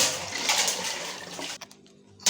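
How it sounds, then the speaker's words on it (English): Water gushes into a cooking pot with a steady loud splashing pour, then stops abruptly, leaving faint drips and quiet room sound. "I'm adding water now"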